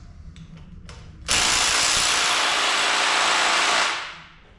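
Bolts set with red threadlocker being loosened, a few brief ratcheting clicks followed by a loud, sustained whir of a power impact tool running for about three seconds before winding down, with no talk.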